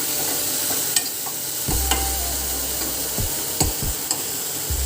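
A curry of taro with ghost chillies, turmeric and salt is stirred in a hot pan, a spoon scraping and knocking in several distinct strokes over a soft sizzle.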